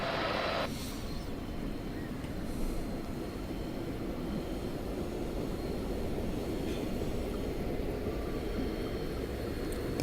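A simulated electric train from Train Simulator 2016 rumbles steadily along the track, a dense continuous rolling roar with faint metallic pings, loud and unbroken throughout.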